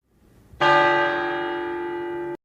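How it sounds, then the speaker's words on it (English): A school bell rings once, loud and close, with a sharp onset and a steady sustained ring of about two seconds before cutting off abruptly. "Well, that's the bell. Time to get to class."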